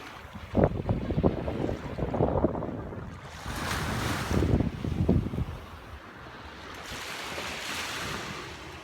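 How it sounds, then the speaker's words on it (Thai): Ocean waves wash ashore at Laguna Beach in Phuket, a steady, rolling surf with swelling surges, mixed with wind buffeting the microphone. "ฟังเสียงคลื่นทะเลด้วย"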